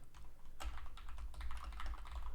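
Rapid, irregular computer keyboard typing, close and fairly steady throughout, with a denser burst of keystrokes starting partway in and no voices.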